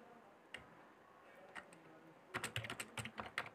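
Keystrokes on a computer keyboard while typing at a DOS command prompt: a few isolated taps, then a quick burst of clicks, close and fairly quiet in a still room.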